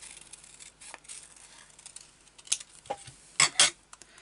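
Scissors cut craft material in short, quiet snips and clicks, with a few sharper, louder cuts toward the end against a near-silent background.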